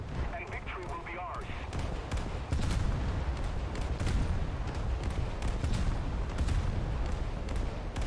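Naval guns boom repeatedly during a War Thunder naval battle, a dense barrage of heavy shots and blasts layered over constant rumbling, with someone talking over the firing throughout.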